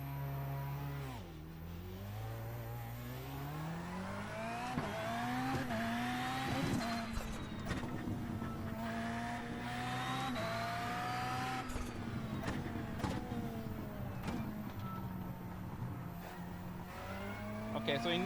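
A rallycross car in a racing sim, its engine revving and climbing through gears with rising and falling whines, tires squealing on corners, steady and close throughout while someone talks over it.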